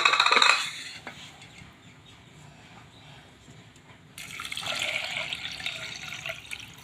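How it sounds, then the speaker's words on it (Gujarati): Water pours into a pressure cooker holding soaked split pigeon-pea lentils (toor dal), a brief splashing burst at the start, then a quieter stretch before a second steady pour of running water, close and with no talk. "બે ગ્લાસ એટલું પાણી નાખું છું"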